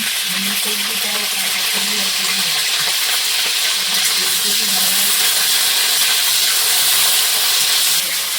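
Wet cauliflower florets fry in hot oil with a loud, continuous hissing sizzle and crackle heard up close, while a low hum sits underneath in the first few seconds.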